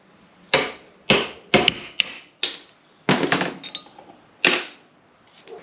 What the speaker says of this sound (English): we're just going to sit that in the vise with a pin punch, sit that straight through and tap that last one straight out